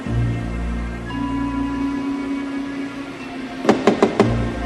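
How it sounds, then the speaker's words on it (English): Knocks on a door, four sharp raps in quick succession near the end, standing out over a low steady background hum. "He's knocking at the door."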